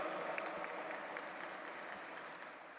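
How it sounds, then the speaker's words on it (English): Hall audience at a G20 Interfaith Summit in the World Peace Dome gives steady applause to welcome a guest, heard as a soft, distant, even patter of many hands. "Please put your hands together and welcome with a big round of applause, Sheikh al-Islam al-Shakur Parzadeh."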